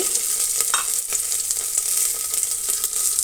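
Steady hot-oil sizzling and crackling from green chilies, cumin, black pepper, ginger and curry leaves frying, continuous and close, with a few faint clinks and stirring sounds and no talking.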